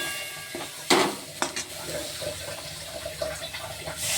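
Boiled potatoes sauté in a spice masala, a soft steady sizzle with intermittent stirring scrapes and a few sharper clinks of the spoon against the pan.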